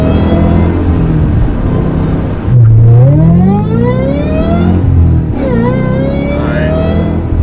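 A Shelby GT500 engine revs hard while driving, a loud continuous roar whose pitch climbs through the gears, dips on each shift and rises again, heard close and without talk.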